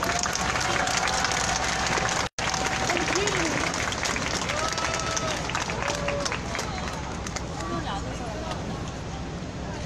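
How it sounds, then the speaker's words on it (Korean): A crowd claps steadily at an outdoor rally, the 1400th Wednesday demonstration over Japanese military sexual slavery, a dense, continuous wash of applause with a brief cut near the start and faint voices mixed in. "뜨거운 박수로 맞이해 주시기 바랍니다."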